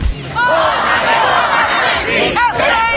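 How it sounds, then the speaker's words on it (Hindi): A large crowd in the streets of Tehran shouts and chants slogans together, a dense, loud roar of many voices with rising and falling cries, continuous throughout. "तेहरान की सड़कों पर गूंजते हुए नारे,"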